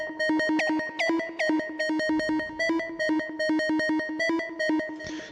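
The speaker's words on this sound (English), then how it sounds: "something that reminds me of home, kind of synth, and it has like this cool little like hip hoppy like melody to it" A synth hip hop beat carries a bright, repeating synth melody in short, even pulses that loop steadily at the same volume, with no voices.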